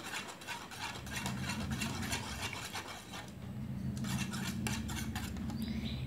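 An egg beater whisks yogurt for Bengali mango yogurt, a steady close scraping and whirring clatter against the bowl that runs without a break and with no talking.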